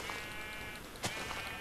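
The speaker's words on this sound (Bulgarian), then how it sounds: "Чакай, че тук бия овцете." A sheep in a survival video game lets out a brief bleat over a steady game background, heard once and fairly close.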